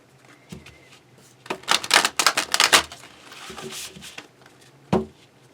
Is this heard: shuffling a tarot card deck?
yes